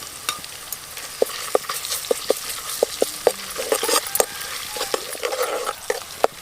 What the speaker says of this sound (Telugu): ఇప్పుడు మనం దంచి పెట్టుకున్న అల్లం వెల్లిపాయ కూడా వేసుకుందాం.